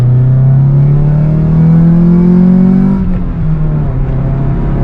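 A car engine revs steadily with a rising drone, loud and close, then settles into a rougher, lower idle for the rest of the clip.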